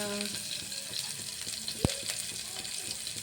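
Onions frying in a pan for a home-cooked avarekalu sambar, giving a steady soft sizzle throughout with one sharp clink partway, no speech over it.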